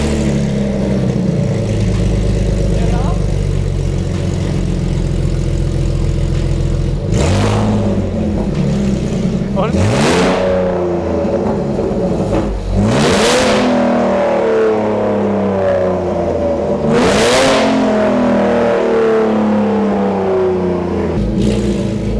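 A BMW Z4 fitted with a straight-pipe exhaust idles with a deep, loud, continuous rumble, then is revved several times in sharp bursts that rise and fall back to idle, close to the listener.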